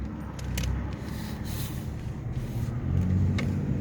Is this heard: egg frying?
no